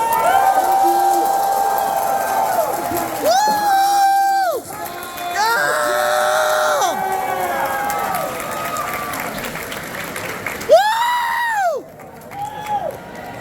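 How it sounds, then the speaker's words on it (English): A crowd at an Anime Expo panel for Persona 5X gives a round of applause. Loud cheers and excited shouts rise over a bed of clapping, then cut off briefly before a final burst of yells. "So one final round of applause."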